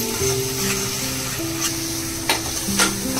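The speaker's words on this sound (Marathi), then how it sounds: "चांगलं तेल सुटूपर्यंत मसाला भाजून घेऊया." Chole masala roasts in oil in a pan, with a steady close sizzle and a few soft stirring scrapes and ticks through the sound.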